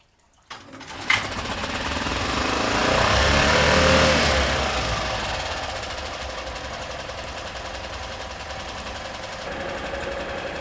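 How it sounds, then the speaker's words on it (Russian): A 2003 Tohatsu single-cylinder long-shaft outboard boat motor starts and runs, a rapid, rattling, shaking putter that swells and then settles into a steady, close, buzzy drone. "Вот так работает мотор, трясется, одноцилиндровый."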